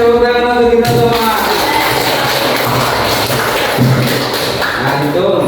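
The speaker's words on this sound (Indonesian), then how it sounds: "Oke, tepuk tangan untuk kita semua." A group of teachers in a classroom training session clap their hands together in a dense, loud burst of overlapping claps that starts right after a brief spoken word and carries on steadily.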